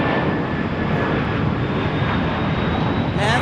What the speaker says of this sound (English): An A319 going to Tucson,